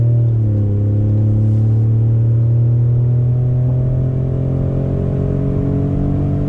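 Engine of a 2020 Ford Raptor with the Recaro package accelerating, heard from inside the cabin: a loud, steady low rumble whose pitch climbs smoothly as revs build, continuous with no talk.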